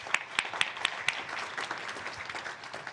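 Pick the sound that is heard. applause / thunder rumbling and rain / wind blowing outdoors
applause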